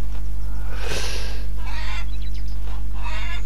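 Chickens in the farming video game Farmer's Dynasty cluck and squawk in a few short bursts over a steady low hum, the bird calls fairly close and clear without any talking.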